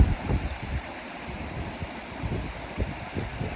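A river in the Lapland highlands of Scandinavia runs steadily, a broad close wash of water with irregular splashes and gurgles, mixed with some wind noise and no talking.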